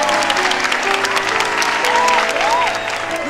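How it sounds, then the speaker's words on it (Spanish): A studio audience applauds salsa dance finalists before the grand final, with steady, dense clapping throughout under bright musical tones. "quiero brindarles un fuerte aplauso a Nepomuceno y Dorita"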